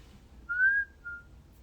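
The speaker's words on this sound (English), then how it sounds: "how do you whistle?" A single whistled note from a person, rising then gliding briefly before a second shorter tone, clear and close over a quiet background.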